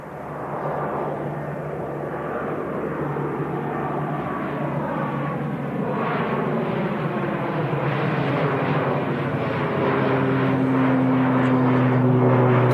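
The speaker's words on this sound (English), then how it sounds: "Great shot of the Loganair ATR 72 heading off to the Isle of Man." Loganair ATR 72 turboprop taking off for the Isle of Man, a steady propeller roar with a shifting, whining drone that grows gradually louder over several seconds; distant airport setting, no voices.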